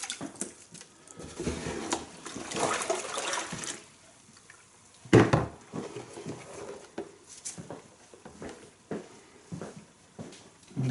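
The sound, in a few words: water draining off a telescope mirror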